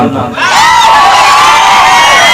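Loud crowd cheering with whoops and shouting from a live comedy show audience, rising suddenly after a brief quiet moment and holding steady as a dense, roaring wall of noise.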